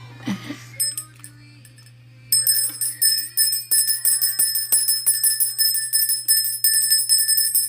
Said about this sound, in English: ding the bell